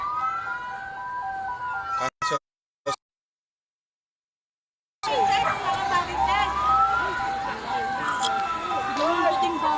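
A wailing fire truck siren sounds near a fire in a farmland area of Quezon City, cut by a brief silent gap, then returning with people talking over it.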